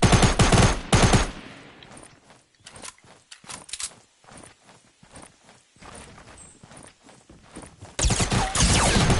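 Bursts of SMG fire crackle loudly in a battle royale video game, heavy rapid volleys at the start and end framing a quieter stretch of scattered clicks and footsteps.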